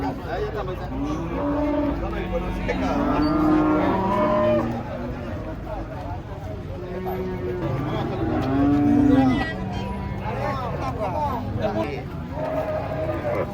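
Several unusual cattle of different colours being unloaded from a truck, with repeated loud moos near and far over a crowd's babble and talk.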